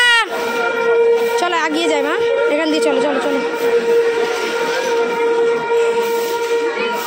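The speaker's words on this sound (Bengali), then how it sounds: "জি মালগাড়ি না রে, শুধু ইঞ্জিন যাচ্ছে, শুধু ইঞ্জিন, ইঞ্জিন।" A lone railway locomotive running without any wagons passes close by, its loud, steady horn tones sounding through the whole stretch while someone talks to a child over it.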